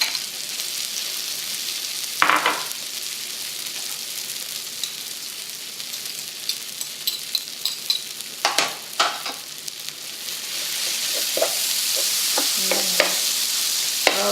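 Taco-seasoned food being stirred and mixed in a hot pan, with a soft steady sizzle and scattered scraping and stirring clicks, moderately close and without talk.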